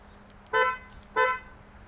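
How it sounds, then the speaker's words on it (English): Two loud, short honks from the horn of a 2020 Kia Optima FE, sounded as the lock button is pressed a second time, spaced about half a second apart with a full, strong tone. "If you press lock and press the second time, honks the horn."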